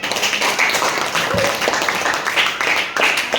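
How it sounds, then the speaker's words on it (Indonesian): A school class at SMPN 1 Teluk Mengkudu applauds a group presentation, producing scattered, uneven hand claps of moderate loudness with some voices mixed in. "ayo kita beri tepuk tangan"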